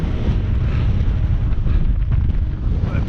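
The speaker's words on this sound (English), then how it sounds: "bloody hell it's windy" Strong wind buffets the microphone atop High Cliff on the South West Coast Path between Crackington Haven and Boscastle, a loud, continuous low roar with gusty rumble and no talk.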